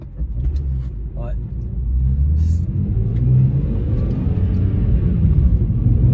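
BMW M3 E46 with SMG gearbox heard from the passenger seat: a loud, deep engine rumble with a steady drone that swells as the car pulls, continuous from start to end.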